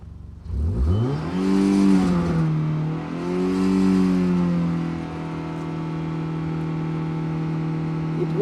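A Toyota Matrix engine with a P0171 lean fault revs twice as the gas pedal is pressed, each rise swelling loud and close before the idle settles into a steady hum.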